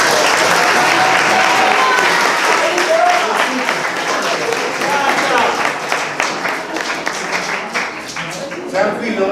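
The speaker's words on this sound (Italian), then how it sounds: "Un applauso di incoraggiamento." Encouraging applause from an audience at a school language-week event, loud and close, with individual claps audible and voices talking underneath as it gradually thins toward the end.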